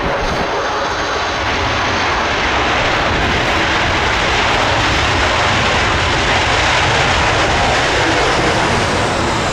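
A Tornado jet applies maximum thrust reverse on landing at an air show, a loud, sustained roar filling the whole clip with a broad rushing wash that swells slightly without letup.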